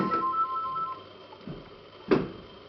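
A telephone rings faintly in a quiet indoor setting, with soft tonal rings spaced apart and a couple of brief louder knocks or rustles between them, no speech over it.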